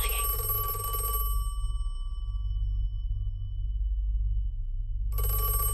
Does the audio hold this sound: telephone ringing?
yes